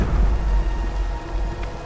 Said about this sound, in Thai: ทำไมถึงมีฟ้าผ่าได้